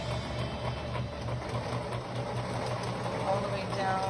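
Sewing machine stitching a homemade cloth face mask, running steadily with a continuous mechanical hum and rapid needle rhythm, then backstitching to lock the seam, close and fairly loud with a voice talking over it.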